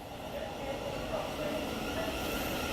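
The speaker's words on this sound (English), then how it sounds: "hopefully this train will be along soon" A London Underground train approaches the Elephant and Castle station platform with a steady low rumble and faint whine that builds gently. Some quiet speech-like murmur is present.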